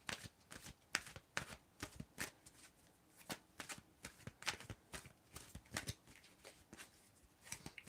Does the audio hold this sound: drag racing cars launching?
no